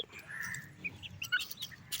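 A small chicken chick cheeps in faint, high, short peeps, scattered irregularly over quiet background noise.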